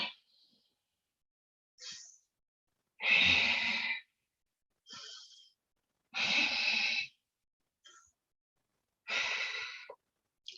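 Deep, long breaths out during a yoga warm-up, four slow, drawn-out exhalations spaced a few seconds apart with quieter inhales between, close and alone.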